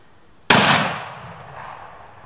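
A single close, loud rifle shot from a Browning X-Bolt Micro Midas in .243 Winchester during outdoor hunting practice, a sharp crack that decays into a long rolling echo over about two seconds.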